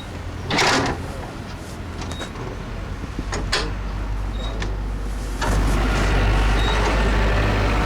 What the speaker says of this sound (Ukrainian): Водій Юрій Теслюк показує, як працює пандус у новому шкільному автобусі